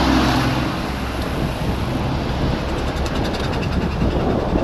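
A passenger train runs through a series of tunnels on the way to Nanning, giving a loud, continuous rumbling roar with steady broadband noise and no voices.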